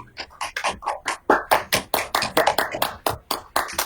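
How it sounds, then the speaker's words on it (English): A few people clap together in a room during a fantasy football podcast, close and distinct sharp claps in a quick, slightly uneven rhythm lasting several seconds. "Why are you guys clapping?"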